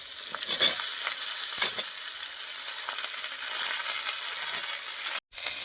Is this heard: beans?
yes